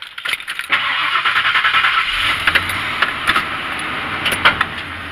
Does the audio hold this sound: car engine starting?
yes